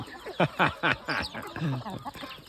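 A chicken clucks in a run of short, repeated calls close by, with a few faint voices behind it on a Thai farm.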